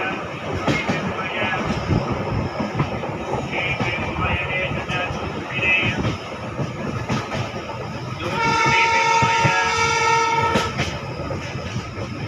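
A train on the Ludhiana to Chandigarh route pulls into Chandigarh railway station, with steady loud rumbling and clattering, a horn-like sustained tone midway, and voices in the background.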